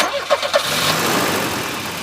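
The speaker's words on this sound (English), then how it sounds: "The whole engine sort of shakes." An old Volvo car engine, shaky and worn, gives a few quick cranking pulses and then settles into a loud, close, steady rumbling run.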